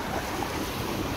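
A boat moves through floodwater covering a road in Shahjahanpur: a short, steady wash of water and wind noise with no clear engine note and no voices.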